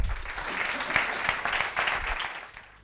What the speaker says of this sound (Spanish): Un fuerte aplauso para Juan Tomás Luengo.